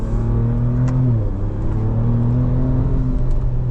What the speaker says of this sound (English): You've got a 3-litre twin-turbo V6 under the bonnet